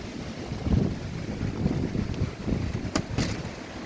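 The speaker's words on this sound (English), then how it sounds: "I can feel this wind too when I step out here." Strong wind buffets an outdoor microphone as a storm rolls in under dark clouds, a steady low rumbling roar with gusts swelling and easing over a few seconds, with no talk.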